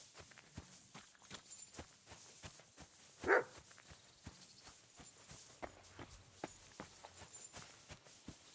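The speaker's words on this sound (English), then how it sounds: "Barking? He's coming from over there." Dog barking in the medieval video game Kingdom Come Deliverance II, a single short bark at mid-distance standing out against a steady run of footstep-like clicks and faint ambience, with no talking.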